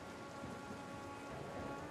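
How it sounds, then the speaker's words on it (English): Rain falling in the video game Tower of Fantasy, a steady, dense patter with no break and no voices over it. "It's raining."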